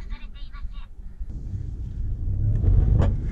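A Nissan March rental car engine revs up, a low rumbling drone that swells louder toward the end, heard close inside the car after a brief electronic chime at the start.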